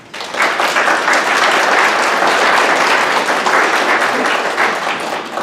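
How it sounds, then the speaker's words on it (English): Sustained applause from the audience at a school board public hearing, steady dense clapping from start to finish with no break. "Please no applause."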